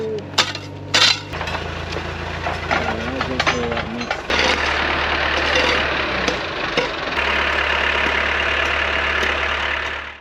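A camper van engine idles and revs in a frozen winter setting, a steady low rumble with surges in loudness, heard near and continuous beneath people talking and a few sharp knocks.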